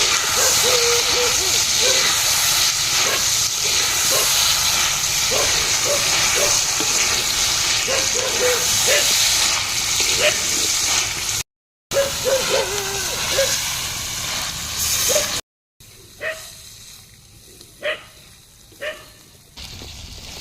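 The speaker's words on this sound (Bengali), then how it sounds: "এই ম্যাগনেট করা মাংসগুলাকে দিয়ে দেবো ওই গরম তেলের মধ্যে দিয়ে ভেজে নেবো ভালো করে" Marinated chicken pieces, Afghani-style, fry in hot oil, giving a loud, dense, steady hiss close by with small spits and crackles; it drops away briefly twice, then returns quieter with scattered pops.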